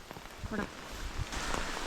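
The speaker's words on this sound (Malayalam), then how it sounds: "നല്ല നല്ല മഴ നല്ല കട്ടയ്ക്ക് മഴ പെയ്തുകൊണ്ടിരിക്കുകയാണ്" Heavy rain pours down in a steady dense hiss, with a voice speaking briefly underneath and occasional louder drips.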